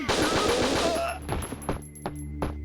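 SMG fire in the video game Winback comes as a rapid burst of close, sharp shots, then a few scattered single shots and clinks.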